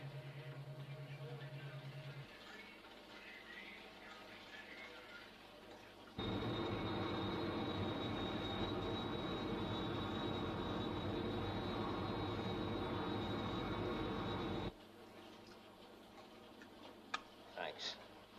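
The Sky 1 aircraft gives a steady, dense engine roar that holds loud for about eight seconds in the middle, with quieter passages and voices before and after it.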